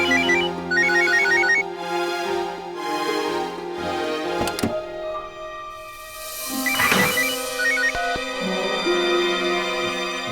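A phone rings with a repeating electronic tone, bursts of ringtone over background music, fairly loud and close.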